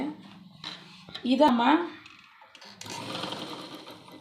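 An electric motor fitted to a tailoring sewing machine whirs up in a loud burst, slows, then runs again with a steady mechanical hum while a person talks over it.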